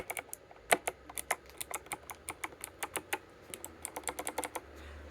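Keys on an 8bitdo NES-style keyboard click in a brisk irregular series of about two dozen crisp taps, close and clear against a quiet background, quickening toward the end.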